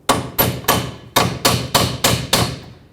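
Hammer blows striking a tie rod lock washer to bend it open on a 2003-2008 Toyota Corolla, seven sharp metallic thuds in a steady rhythm with a brief gap, close and loud, no talk.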